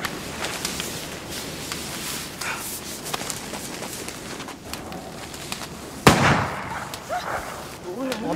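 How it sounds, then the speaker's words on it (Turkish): A single loud, sharp bang cracks out partway through, standing out against a noisy, busy background with people talking. "silah sesi bu."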